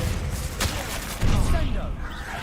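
Bombarda and Descendo spells go off in Hogwarts Legacy as two booming, explosive bursts about half a second apart, loud and full amid a dense wash of game noise.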